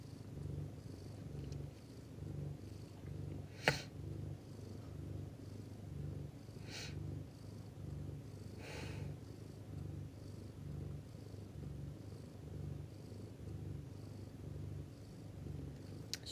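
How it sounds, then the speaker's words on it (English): A domestic cat in labour purrs steadily and close, a soft rhythmic rumble running throughout with a few faint clicks and rustles. "She's purring because she's self-soothing."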